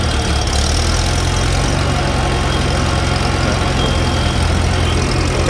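A small lawn mower engine runs steadily at a constant idle-like pace, loud and close, with a continuous low throb and no speech.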